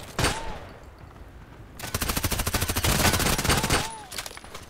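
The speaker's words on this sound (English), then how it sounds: "Shots." Gunfire in the Contract Wars shooter game: a single loud shot, a short pause, then a long rapid burst of automatic fire lasting about two seconds, followed by another sharp shot near the end.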